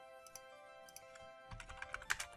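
Close, quiet keystrokes on a computer keyboard, sparse at first and then a quick run of clustered taps as a short item is typed into a to-do list app.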